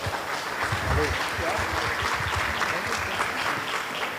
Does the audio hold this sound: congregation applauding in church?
yes